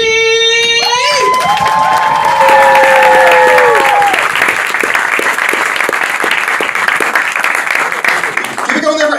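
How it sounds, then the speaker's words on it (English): A live comedy show crowd greets a comedian taking the stage, starting with loud whoops and shouts, then swelling into sustained, full applause with scattered cheers that carries on for several seconds. "Please welcome to the stage the big round of applause, Socrates!"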